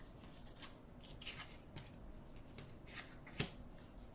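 Oracle cards are shuffled and drawn by hand, giving soft papery riffles and brushing sounds in quiet, irregular bursts that are faint and close.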